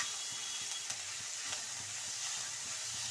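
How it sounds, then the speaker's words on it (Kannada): Ginger and garlic fry in a pan with a steady, close sizzle and a faint periodic stirring scrape, the hiss continuous and loud throughout. "ಶುಂಠಿ ಬೆಳ್ಳುಳ್ಳಿ ನೋಡಿ ಈ ರೀತಿ ಹುರಿದ್ಬಿಟ್ಟು ಮಾಡಿದ್ರೆ"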